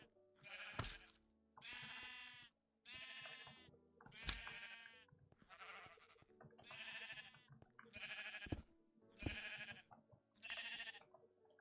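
Sheep in the Minecraft video game bleat over and over, a string of about nine loud, close, nasal bleats in steady succession with short gaps between them and no talk.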